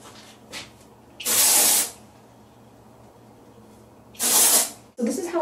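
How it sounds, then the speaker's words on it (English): Two bursts of Suave dry shampoo sprayed into sections of hair, each hiss lasting under a second, with a third short spray at the end, close and loud against a quiet room. "spray some dry shampoo in there."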